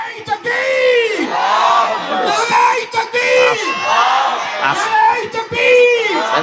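A large crowd at a Bangla sermon gathering roars a takbir chant in unison, many voices rising and falling together in loud, sustained waves that fill the whole stretch.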